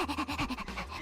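A video game character pants like a dog in quick, rhythmic bursts of breath, close and fairly loud, with no talk over it.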